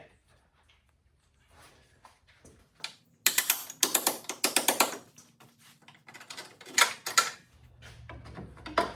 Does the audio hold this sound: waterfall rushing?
no